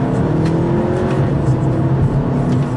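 A 2015 Audi A3 Quattro engine hums and revs steadily from inside the car as it shifts down, a loud continuous drone with slight pitch changes.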